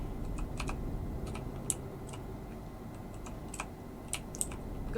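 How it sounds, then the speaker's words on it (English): Keys clack on a mechanical computer keyboard in short scattered bursts of crisp clicks, sitting close over a steady low background rumble. "it's basically because I have a mechanical keyboard"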